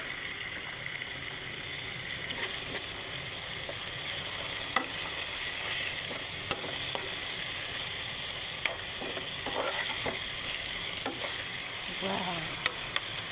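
Squid hits a hot pan of cooking tomatoes for adobong pusit, giving a steady, close frying sizzle with crackles, scattered sharp pops and occasional stirring clatter throughout.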